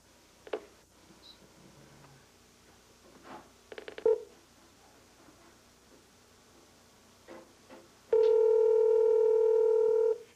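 A Darth Vader novelty speakerphone gives a few faint clicks and handling knocks, then a loud, steady dial tone for the last two seconds.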